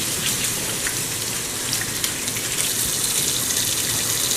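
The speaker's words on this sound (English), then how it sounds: "now what we're going to do is wash each tomato" Tomatoes are washed under a running kitchen tap, a steady broadband rush of water splashing over the fruit, continuous and close with no voices.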